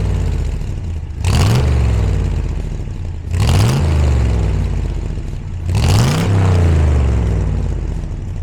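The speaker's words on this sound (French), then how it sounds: "Allez, je vais la démarrer." A Chevrolet Corvette C2 sports car is started and revved: three loud, close throttle blips rise sharply and fall away, evenly spaced, over a rough, burbling idle.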